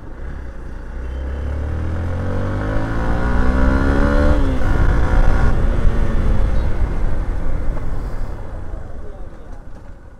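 Motorcycle engine during an Independence Day group bike ride in Chhatrapati Sambhaji Nagar, revving up in rising pitch then easing off, loud and close over steady road rumble, with voices in the background.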